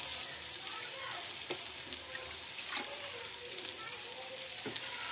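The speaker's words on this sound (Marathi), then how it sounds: "वर परत आपल्याला हे पीठ घालायचं आहे" Batter for ghavan poured onto an oiled pan, giving a continuous low sizzle with a few faint clicks and scrapes of a utensil, quiet and close, without talk.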